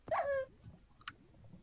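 A dog in a survival video game gives a short, high whimpering whine, then a brief faint yip, quiet against light background noise.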